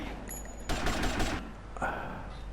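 Rapid gunfire in GTA: Vice City during a car chase mission, a loud burst of automatic shots lasting under a second, then another short volley after a brief pause.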